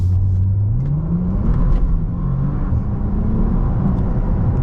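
Bentley Continental GT W12 Mulliner accelerating hard on a late-night drive, a loud, continuous deep engine rumble whose pitch rises steadily as it pulls, heard from inside the cabin with no talk.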